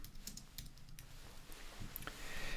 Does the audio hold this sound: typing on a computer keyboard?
yes